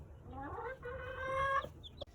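Broody hen clucking softly to her chicks inside a chicken coop, a close run of low clucks and chatter followed by two brief high peeps near the end.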